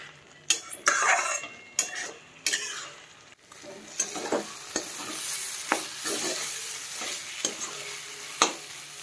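Beans are stirred and fried in a spiced masala, with repeated spoon scrapes and clacks against the pan over a steady sizzle, close up and with no talk.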